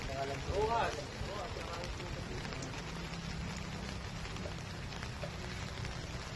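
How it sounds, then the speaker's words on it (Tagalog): Heavy rain pours steadily onto surfaces outdoors, a dense continuous hiss that holds throughout, with a brief louder patch near the start. "Tagal po ulit ang matapos sa ganitong ulan."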